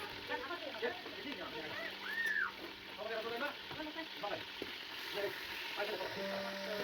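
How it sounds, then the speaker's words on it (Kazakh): Meat fries in hot oil in a cauldron with a quiet, continuous sizzle, partly masked by a person talking throughout and some clinks of a utensil. "қыздырып алып, етті қуырып аламыз."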